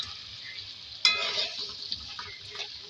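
Pre-fried goat liver dropped into a pan of softened tomatoes, a sharp burst of sizzling at the moment it lands, then settling into quieter frying and stirring, no voices.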